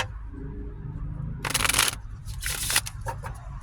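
Tarot cards shuffled by hand in two quick riffling bursts, the first longer and the second shorter, close up over a low background hum.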